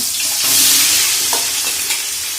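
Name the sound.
onions sautéing in a pot for chicken biryani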